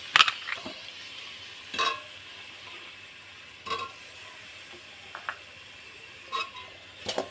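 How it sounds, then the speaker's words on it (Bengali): Melting jaggery stirred in a karai gives faint, soft sizzling under a spatula's scrapes and taps, which return every second or two against a quiet background. "এবার আমি কড়াইতে গুড়গুলো দিয়ে দিচ্ছি। দেখো গুড়গুলো আমি গলাচ্ছি।"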